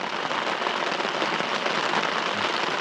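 Heavy rain pouring during a thunderstorm over a camp with a tarp, a loud, dense, unbroken wash of drops pattering nearby for the whole stretch.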